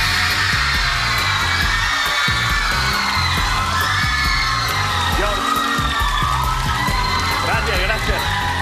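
Studio audience fans at a TV talk show scream and cheer loudly and continuously, high-pitched shrieks and whoops filling the room beneath talk.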